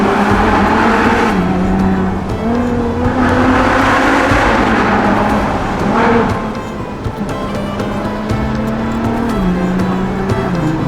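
A naturally aspirated V12 Ferrari FF drives the Susten Pass, its loud engine rising and falling through repeated revs and gear changes as the car pulls hard nearby, with no voices.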